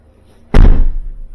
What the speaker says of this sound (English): we can check to make sure the door closes properly